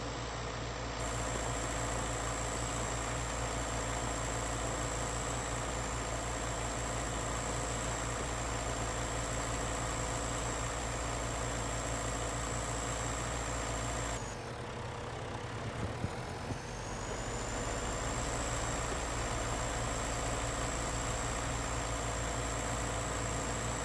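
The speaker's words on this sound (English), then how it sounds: "It's a bigger tractor, a little 6300, but it does have a pull to it." A bigger farm tractor, a 6300, runs steadily in a farming video game, its low engine drone constant and close, with a brief dip and rumble partway through before settling back.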